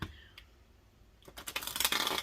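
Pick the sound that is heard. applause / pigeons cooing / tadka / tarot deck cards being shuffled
tarot deck cards being shuffled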